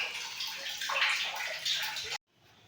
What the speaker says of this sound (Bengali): জল ভরতে দিয়েছি